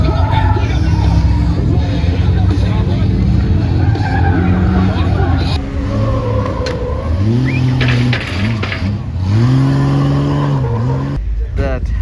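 Tesla-powered RS1 sand car sliding across sand, with loud tire squeal and motor whine rising and falling in repeated swoops while people talk over it.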